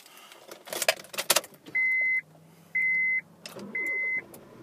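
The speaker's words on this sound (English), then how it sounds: "if we just get the car started" A Honda Jazz SE CVT starts up: a couple of loud clicks and clunks, then a low hum and three separate sustained whirring motor tones, each about half a second long, alone in a quiet cabin.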